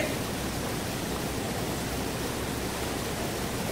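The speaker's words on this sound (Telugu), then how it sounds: "6 పంపులు అయితే పనిచేస్తున్నాయండి" Six heavy pumps running together to draw water out of a flooded site make a constant roaring wash of pouring water, loud and unbroken from start to finish, with no speech.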